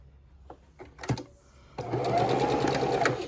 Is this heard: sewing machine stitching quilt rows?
yes